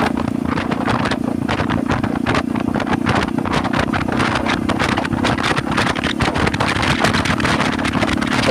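A modest motorcycle rides along a rural alternative road in Musi Rawas, with a steady engine drone and heavy wind buffeting the microphone throughout, close and continuous with no talk.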